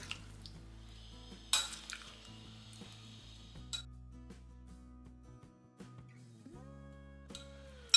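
Cubed paneer, onion and chopped capsicum are tossed together in a bowl, giving soft wet squishes, light clinks and the odd sharp knock against the dish, close and quiet with no talking.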